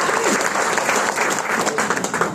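A crowd at a presentation event bursts into loud, sustained clapping for a sponsor, dense and steady for the whole stretch with no pauses.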